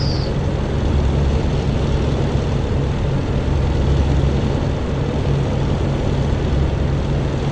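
Bf109 fighter plane engine roaring during takeoff in the DCS flight simulator game, a loud continuous droning hum with steady low tones, no voices.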